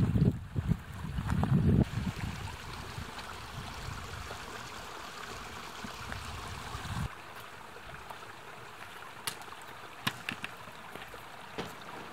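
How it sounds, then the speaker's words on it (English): Running water from a stream beside a gravel beach at a wilderness campsite, a steady soft babble with gusty wind noise and a few knocks early on, then quieter flow with occasional small clicks. "we have a source of water, running water, so it's really nice"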